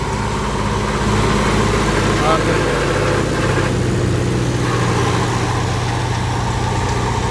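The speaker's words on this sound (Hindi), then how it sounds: "मैंने रेस कम कर दी है ट्रैक्टर की" A tractor engine drives a threshing machine at reduced throttle, giving a steady low diesel drone with a constant mechanical rumble throughout.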